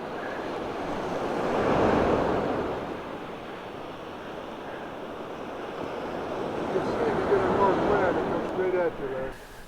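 Surf washing onto a deserted beach in Baja California, a steady broad rush of waves with wind noise on the microphone, swelling louder in places, with faint voices toward the end.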